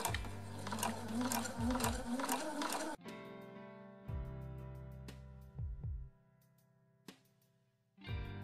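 A sewing machine stitches around a fabric heart cut from scraps, running in mechanical bursts separated by short pauses, with faint tonal sounds in the background.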